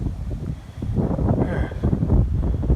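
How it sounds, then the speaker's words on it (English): Strong cold wind blowing outdoors by a pond on a farm, low gusty rumble buffeting the microphone and swelling louder through the clip, with no talk. "Too windy and cold."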